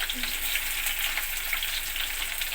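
Cumin, mustard seeds, onions and green chillies frying in hot oil, a dense, even hiss of sizzling that holds steady throughout, close and moderately loud.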